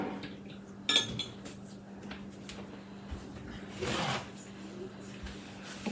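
A spoon scrapes and clinks against a dish while garlic is mixed into honey garlic chicken, with a sharp knock near the start and a louder scraping burst toward the end, all close by.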